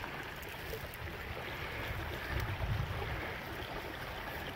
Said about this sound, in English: I actually got water right next to me.